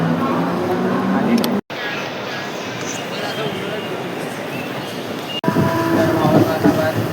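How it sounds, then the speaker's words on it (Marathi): A train rumbles and clatters loudly nearby, a steady heavy roar with abrupt cuts in the recording and voices mixed in. "आता तिसरी ट्रेन येते"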